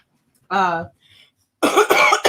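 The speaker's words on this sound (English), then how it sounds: "I'm going to be coughing and whatnot." A single throaty cough, a brief pause, then a burst of harsh coughing close to the microphone.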